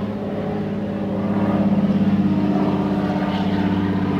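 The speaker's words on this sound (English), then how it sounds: "Let the float plane go by." Float plane flying past a lakeside shore, its propeller engine droning loud and near and swelling midway with a pulsing beat, no voices.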